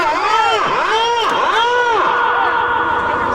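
A village crowd at a contest in Kotanka shouts and cheers continuously and loudly, with one strong wavering voice calling out above the din.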